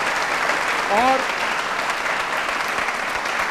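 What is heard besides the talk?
audience applause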